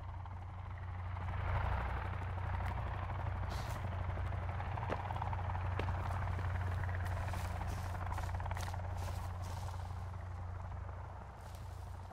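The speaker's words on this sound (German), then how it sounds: "Der Helikopter ist auf jeden Fall drüber geflogen" A helicopter passes overhead above a lake in the video game Sons of the Forest, a steady rotor drone holding for the full length, moderately loud with no talk.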